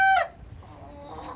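Caged Australorp hens and a rooster give a short, sharp call at the start, then soft scattered clucks and faint farmyard murmurs trail off quietly.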